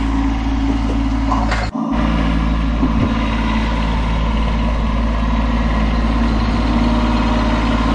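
Kubota tractor engine idling nearby, a loud, steady low diesel rumble with a brief knock near the start and one more soft thud later.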